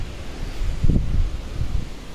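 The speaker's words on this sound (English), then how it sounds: "There's the wind." Outdoor wind gusts across the microphone as a low, rough rumble that swells and buffets for about two seconds, with no voices.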